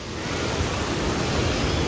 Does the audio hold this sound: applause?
no